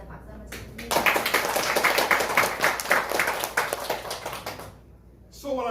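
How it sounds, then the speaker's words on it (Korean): A seminar audience gives a burst of loud, crowded clapping that swells quickly, holds for several seconds, then tapers off, with a voice starting up at the end. "감사드리기 위해서 박수 한번 드립니다."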